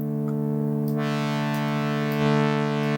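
A Serum 2 software synth playing a sustained chord from an initialized preset, shaped with filtering that opens the tone brighter partway through, steady and clean with no voices.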